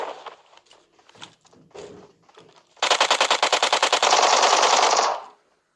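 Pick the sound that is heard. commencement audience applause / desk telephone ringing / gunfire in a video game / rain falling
gunfire in a video game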